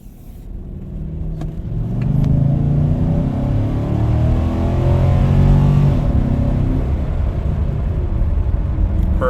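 A car engine pulls hard while driving toward a repair shop, and its rumble rises from a quiet idle into a loud, sustained acceleration that keeps building for several seconds, heard from close by with no talking.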